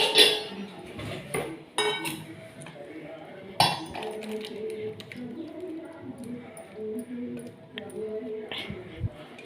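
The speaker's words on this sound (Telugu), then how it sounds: "గిన్నెలోకి ఎత్తానండి." Cooked rajma curry being spooned from a cooking pot into a serving bowl, with several sharp metallic clinks and scrapes of utensil against vessel scattered through, a voice talking faintly in the background.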